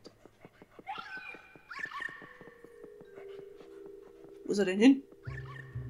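In Luigi's Mansion 3, the ghost dog whines and whimpers in rising cries, then barks and yelps loudly near the end, heard over game music while someone speaks briefly.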